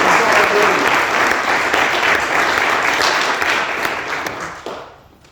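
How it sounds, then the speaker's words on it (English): A loud, dense round of crowd applause at a Pittsburgh Take Your Father to School Day proclamation event, sustained for several seconds before tapering off near the end. "So can we just give a round of applause for all organizations that continue to stand with us"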